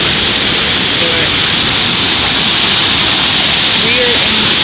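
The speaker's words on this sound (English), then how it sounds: "First waterfall I've seen in Mexico." Waterfall in Mexico swollen by the previous day's rain, a loud, steady roar of falling water throughout with no break.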